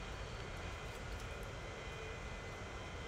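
Jet airliner engines spool up in the Transport Fever video game, a steady, loud, broadband roar holding at constant level throughout with no talking.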